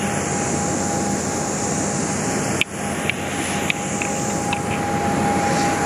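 Inside a Thai Lion Air airplane cabin, a loud, steady engine roar carries a constant hum, broken only by a couple of brief knocks, with no one speaking.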